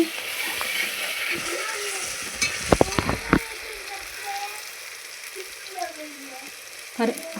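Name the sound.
gongura leaves cooking in a pan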